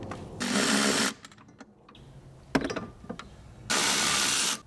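A power driver removing seat bolts in a Land Rover LR3, with two loud whirring bursts about a second long separated by a pause filled with clicks and clunks of the bit and tool being repositioned.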